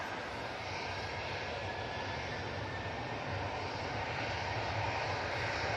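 A Tui airliner departing Manchester Airport for Naples gives a steady, even jet engine roar, moderately distant and unbroken, with no voices over it.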